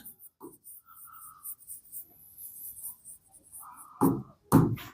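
Chalk or pen writes on a board or paper during a physics lesson, a series of short scratchy strokes with quiet gaps, ending in two louder, firmer strokes close by.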